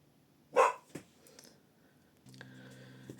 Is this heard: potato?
no